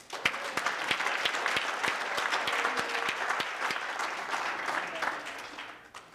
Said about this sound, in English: And how about a round of applause for Kenton?